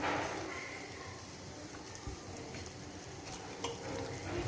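Cut potatoes stirred in a frying pan for a potato shaak, a continuous close sizzle with scraping and stirring scuffs throughout.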